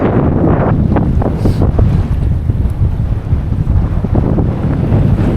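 Strong, gusty wind roars across the microphone aboard a sailboat on the open sea, with sustained 18 to 25 knot winds. A dense, loud low rumble runs throughout without letup, and faint water sounds sit underneath.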